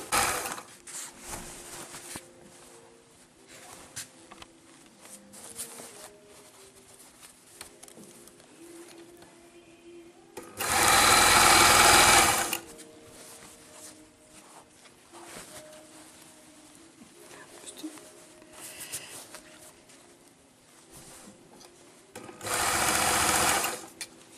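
A sewing machine stitches a kimono jacket seam in two loud, steady bursts of rapid whirring, each about two seconds long. Quieter handling noise and faint background sounds fill the gaps between them.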